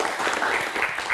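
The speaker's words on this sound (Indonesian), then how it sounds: "tepuk tangan dong" Audience applause fills a talk-show studio, a dense, even wash of clapping that holds steady for a brief moment.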